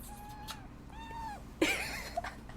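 A pet cat meows twice, then gives a louder, more strained cry, close and clear over quiet room noise with no talking.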